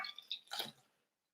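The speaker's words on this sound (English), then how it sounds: "I'm going to pour that straight in" Liquid poured into a bowl of flour while making a pork pie: a short, close splashing pour of about a second that trails off into silence.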